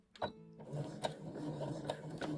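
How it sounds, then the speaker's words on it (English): Sewing machine stitching a seam forward and back, short bursts of mechanical clatter and needle taps, close and fairly quiet, with brief pauses between runs. "I'm going to start my seam and every seam with a forward and back stitch"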